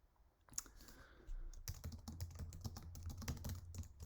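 Fingers type a message on a computer keyboard: brisk, irregular key clicks close by, sparse at first, then a dense steady burst of tapping, with no voices.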